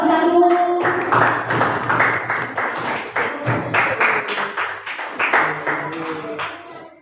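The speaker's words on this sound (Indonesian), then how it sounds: "Aplaus untuk kelompok 1." Classroom applause for a student group, many hands clapping in a dense, fairly loud burst that holds for several seconds and then tapers off.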